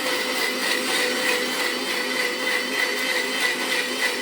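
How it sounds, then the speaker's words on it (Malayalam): A mixer grinder blending cucumber juice, a loud continuous motor whir with a churning texture that holds steady throughout, with no speech. "മിക്സിയിൽ അരക്കുവാണ് ഗൈസ്."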